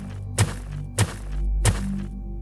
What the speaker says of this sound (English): banging her head against the wall like a crazy woman